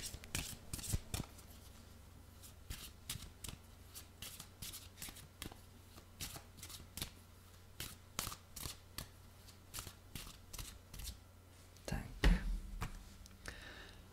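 Angels of the Starry Avalon oracle cards are shuffled by hand up close, a run of quick crisp riffling snaps and soft papery slides in irregular bursts, with faint murmuring at times.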